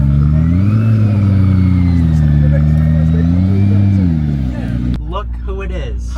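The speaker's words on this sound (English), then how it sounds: "Absolutely stunning P1 pulling up." A McLaren P1 supercar pulling up, its engine note rising and falling in a loud, close rumble with revving, then fading as people start talking nearby.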